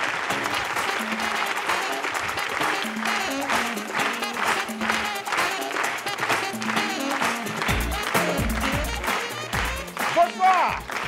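Theatre audience giving a loud, sustained burst of applause at a live comedy show, with dense clapping running throughout, rhythmic bursts and low thumps near the end.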